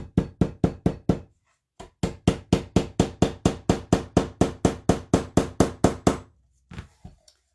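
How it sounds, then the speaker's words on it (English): Hammer blows on cardboard house cutouts: a quick regular run of sharp, dull knocks, a brief pause, then a long steady series of about twenty even strikes before a few final scattered taps, close by with no talk. "If you want to get your aggressions out, get a hammer. Whoops. Just start hammering."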